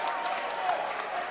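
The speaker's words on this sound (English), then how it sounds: "And a little bit of a cheer from the DeSmet faithful." Basketball crowd at a Webster Groves vs DeSmet high school tournament game gives a steady cheer and applause from the DeSmet faithful, a dense even wash of crowd noise with a voice talking over it.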